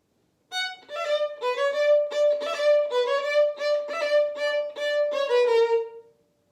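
A violin plays a trill passage from a Vivaldi piece, a steady bowed phrase with rapid alternating notes and several re-bowed attacks, close and clear over about six seconds with no talking.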